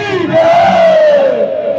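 A crowd at a village Phag singing contest shouts a jaikara chant in unison, a loud, sustained collective cry that rises and slowly falls over a couple of seconds.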